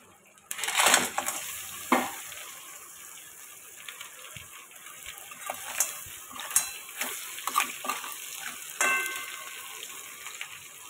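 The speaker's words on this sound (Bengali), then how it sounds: "তো চলো কাঁকড়াগুলো ভাজা সব কমপ্লিট করে নিই।" Sea crabs frying and being stirred in hot oil give a soft background sizzle punctuated by repeated sharp clinks and scrapes of a utensil against the pan, irregularly spaced and close by.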